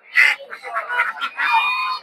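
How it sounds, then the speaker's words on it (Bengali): Farm-raised ducks at the Narsingdi Putia poultry and bird market give loud, close honking quacks in quick succession, one call running into the next. "এগুলো সব খামারে পালা হাঁস"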